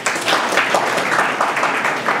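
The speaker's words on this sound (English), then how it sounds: "Please clap for him." Applause from an audience at a university entrepreneurship awareness event, steady dense clapping that holds at an even, fairly loud level throughout with no talk over it.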